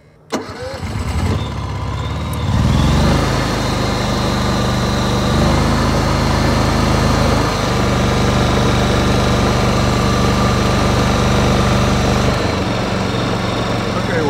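A Honda EU7000 inverter generator cranks over and catches, then settles into a steady, loud, close mid-pitched engine drone that runs evenly for the rest of the stretch, with no talking.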